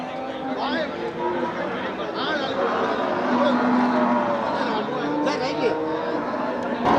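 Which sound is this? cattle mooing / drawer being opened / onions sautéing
cattle mooing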